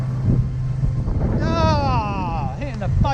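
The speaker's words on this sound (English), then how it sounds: "Windy, raining, horrible." Gusty wind with rain buffets the microphone in a steady roar, with a voice calling out briefly over it.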